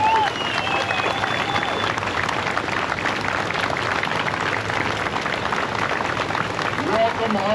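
An audience claps steadily for veterans at an outdoor welcome home ceremony, a dense, sustained round of applause at moderate distance that carries evenly from start to finish.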